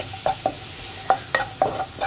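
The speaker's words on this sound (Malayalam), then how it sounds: "ഇനി ഇതിലേക്ക് നമുക്ക് ചെറുതായിട്ട് കട്ട് ചെയ്ത് വെച്ചിരിക്കുന്ന തക്കാളി ചേർക്കാം." Chopped tomato being stirred into a hot pan of frying masala with chili powder for egg bhurji, with several separate scraping stir strokes over a steady low sizzle, close and alone with no talk.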